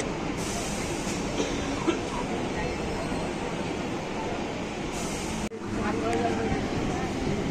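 Sealdah–Ranaghat local train pulling out of Sodepur station, a continuous rolling rumble inside the carriage with a brief dropout and then renewed, slightly louder running noise as it gathers speed.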